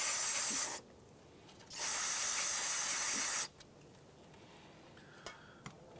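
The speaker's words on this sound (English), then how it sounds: "So we're gonna clean the area with brake clean." Brake cleaner sprays onto a brake line at the front brake hose of a 2003-2011 Honda Element, two close, loud hissing bursts separated by a short pause, followed by quiet with a couple of faint clicks.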